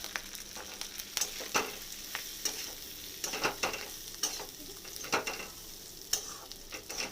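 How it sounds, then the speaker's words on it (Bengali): Marinated rice for basanti pulao fries in a pan, with a low steady sizzle broken by repeated scraping stirs of a spoon against the pan, close and without talk. "এরপরে ম্যারিনেট করে রাখা চালটা আমি দিয়ে দিলাম, আর 3 থেকে 4 মিনিট আমি এটাকে ভেজে নেব।"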